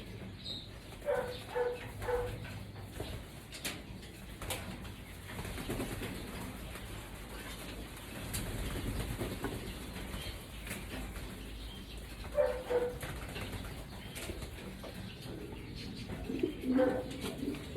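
Young racing pigeons coo softly in a loft, with intermittent wing flaps and rustling, plus a dog barking in the distance and faint talk in the background.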